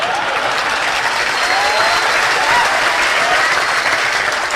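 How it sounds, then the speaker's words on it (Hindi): Audience at a mushaira in Dhaka clapping steadily and evenly throughout, a continuous wash of applause without pauses. "इतनी कमजोर तालियों में मैंने दुनिया के किसी हिस्से में यह गीत नहीं पढ़ा।"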